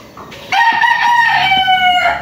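A rooster crows loudly and close at a chicken breeding area, one long sustained crow lasting over a second, with faint clucking before it.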